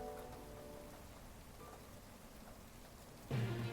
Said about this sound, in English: It's a strange rainy Thanksgiving this year. 8 inches of rain so far, the most we've had in years.